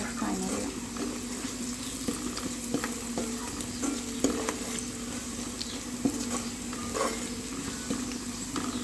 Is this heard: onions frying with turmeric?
yes